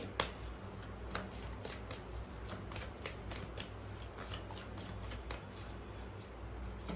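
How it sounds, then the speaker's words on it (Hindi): Tarot cards being shuffled and drawn from a deck, a steady run of crisp riffling flicks and slides, close and fairly quiet, with no talk over it. "मैं एक कार्ड और लेती हूँ इसी डेक से।"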